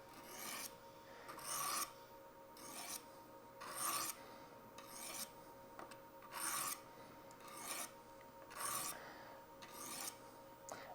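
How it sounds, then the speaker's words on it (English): A knife is drawn repeatedly through a homemade diamond sharpening setup, giving about eight evenly spaced rasping strokes of similar length with short pauses between them, close and moderately loud, with no talking. "like this, you can sharpen your knife"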